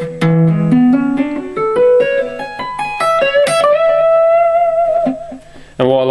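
Electric guitar lick played slowly with tapped notes, pull-offs and string bends, climbing in pitch through a quick series of notes before a sustained bent note and a final bright strum, loud and alone.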